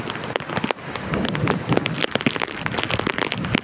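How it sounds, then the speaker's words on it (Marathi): Heavy first monsoon downpour at Kalvi Bandar, Vengurla on the Konkan coast, a dense steady hiss of rain with sharp drops spattering close by and gusts of wind, loud and continuous, with no talk. "बघा किती बेफाम पाऊस चालू आहे."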